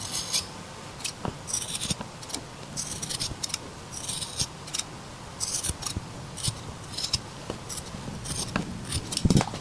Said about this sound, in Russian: большими ножницами